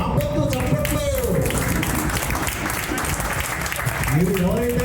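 Audience applause at a veterans' masters athletics award ceremony in Rajasthan, a steady wash of clapping through the whole stretch with voices and music-like tones mixed in beneath.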